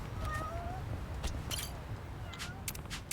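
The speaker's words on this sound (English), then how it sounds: "There's a cat right there." A cat in the video game Yakuza: Like A Dragon gives a few soft meows over steady background game ambience and a low hum, fairly faint and not close.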